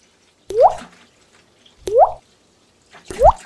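Unsweetened vanilla almond milk glugs out of a carton into a container for keto horchata. Three separate close, wet gulps come at roughly even intervals, with quiet between them and no speech.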